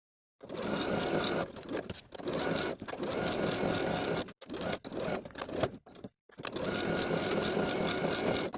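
Domestic sewing machine stitching a dress side seam with a 3/8 inch seam allowance, pivoting around a pocket down to the skirt bottom: steady close whirring runs in several bursts separated by short pauses, with no talk.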